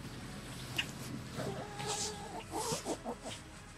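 Hens cluck on a small homestead on a cold day, several soft, short clucks and murmurs overlapping at close range.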